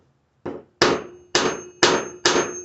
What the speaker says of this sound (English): Put the razor blade right on the line, like that, and give it a couple taps with the hammer.